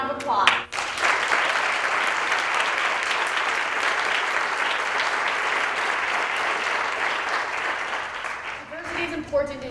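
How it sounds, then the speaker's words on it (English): An audience applauds performing guests at a community diversity event, dense steady clapping rising after a brief voice and fading near the end as speech resumes. "Please give our talented guests another round of applause."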